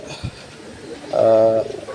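A single pigeon coos once, a soft throaty call up close, following a faint tap and quiet surroundings.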